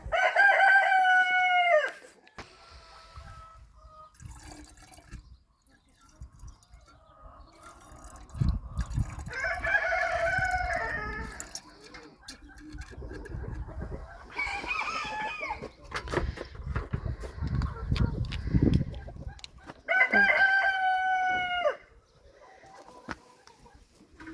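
A Cochin rooster crows loudly nearby three times, with clucking and rustling between the calls.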